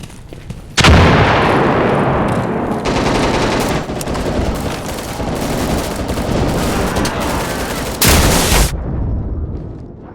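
Insurgency (2014) firefight: a sharp, loud grenade blast opens a sustained roar of heavy machine-gun and rifle fire, with a second powerful explosion near the end before the noise cuts off abruptly.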